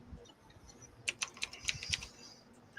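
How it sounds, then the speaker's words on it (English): Quick clicking keystrokes on a computer keyboard, a short burst of several taps in the middle, fairly faint with light background noise and no talking. "she's typing it up"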